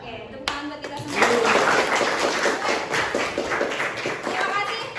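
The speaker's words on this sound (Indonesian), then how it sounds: "Oke, tepuk tangan buat kita semua." An audience clapping at the end of a session, a brisk burst of applause that quickly swells and then holds steady and fairly close, with voices mixed in.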